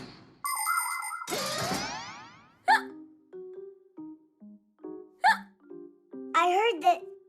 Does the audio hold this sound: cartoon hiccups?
yes